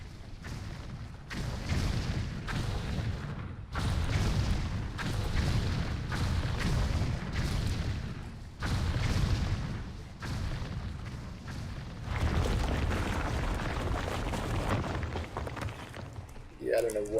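A detonator blast destroys a wall in World of Warcraft, heard as repeated deep booming bursts and rumbling impacts in a busy game soundscape, spread over the whole stretch with short gaps between them.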